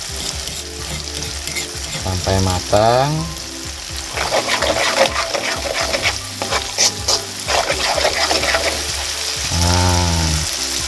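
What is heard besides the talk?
frying chili and turmeric in a pan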